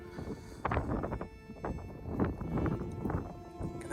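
Icelandic horses in an outdoor field, heard as faint hoof thuds and soft snorting or shuffling at close range, with light wind noise in the background.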